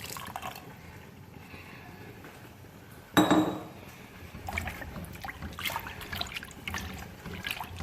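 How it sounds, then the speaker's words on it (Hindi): Rice poured into a pot of boiled milk for a carrot kheer, one sudden clattering splash followed by soft liquid trickles and light pot sounds, close and fairly quiet. "अब सबसे पहले हम दूध को उबाल कर इसमें हम चावल डाल देंगे।"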